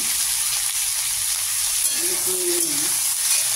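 Young ridge gourd fries with salt and turmeric in a pan, producing a constant, even hiss of sizzling oil close up, with a faint brief murmur in the background midway.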